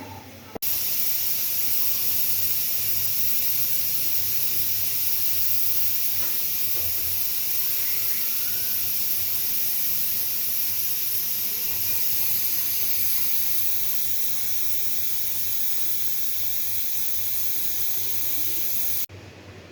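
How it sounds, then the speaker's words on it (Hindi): A steady, loud hiss of steam escaping from a pressure cooker after cooking paya (goat trotters) for an hour, continuous and unbroken with a faint low rumble beneath. "कुकर के ढक्कन को खोलेंगे"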